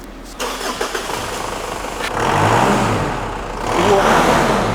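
A Jeep Cherokee engine, newly fitted with injectors and a turbo, cranks briefly, catches, and settles into a loud, steady idle with a couple of swelling revs close by.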